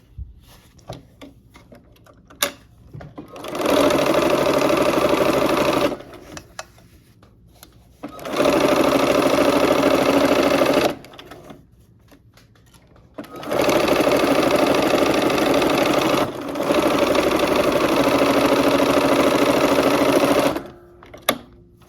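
A sewing machine stitches quilt blocks together for a side border, running loud and steady in three long bursts with short pauses between, near and alone.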